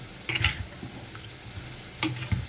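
Stirring salted meat in a cooking pot over heat, a few scraping and clinking strokes in two short clusters over a low background hiss, close and moderately loud.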